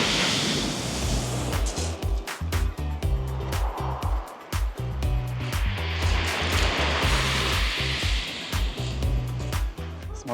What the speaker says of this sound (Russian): Сегодня такое суровое море, бушующее.